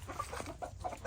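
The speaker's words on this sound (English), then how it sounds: "Some new chicks." New chicks and chickens in a pen, with soft, faint clucking and peeping in a short burst over low background noise.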